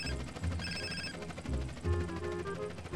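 A telephone rings in GTA San Andreas, a steady repeating electronic ring with a bright tonal pattern, clear and close over the game's background sound, with no talking.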